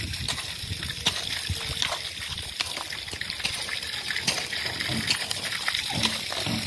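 Children bathing outdoors at a village home, with steady splashing and sloshing water close by, frequent small splats and trickles, and faint voices in the background.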